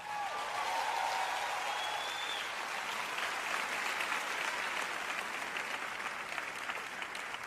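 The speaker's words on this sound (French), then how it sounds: "Allez, applaudissez plus fort que ça." A church congregation applauds louder, steady sustained clapping from a large crowd filling the space throughout.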